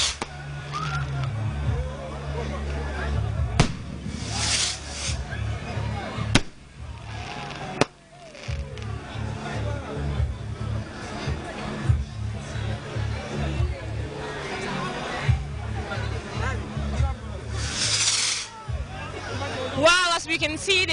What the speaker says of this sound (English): fireworks are right now blowing in the air